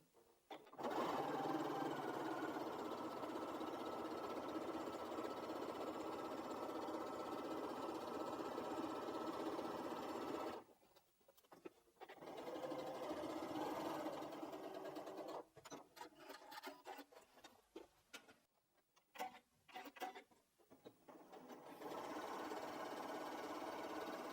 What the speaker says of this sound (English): I'm just going to do a top stitch along this seam